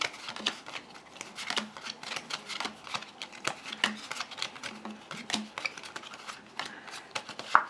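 Playing cards are handled and dealt close up, with quick papery snaps, flicks and soft slides in an irregular run, fairly quiet with no talk.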